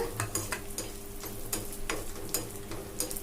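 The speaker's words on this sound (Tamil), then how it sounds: "காஞ்ச திராட்சை வறுபட்டு நல்லா உப்பி வரட்டுங்க." Raisins fry with dry fruits in a pan for a kozhukattai payasam, making a steady soft sizzle. Light stirring and scraping clicks sit on top, close up, with no voices.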